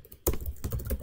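Fingers type on a computer keyboard, entering commands in an Ubuntu Linux terminal. A quick, close run of several clicky keystrokes follows a brief quiet start, and there is no talking.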